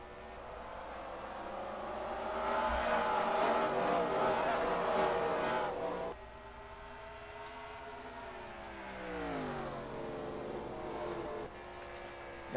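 Race cars in a racing video game at the start of an oval race at New Hampshire, a loud engine drone from several cars rising and falling in pitch as they pass and accelerate, with no talk.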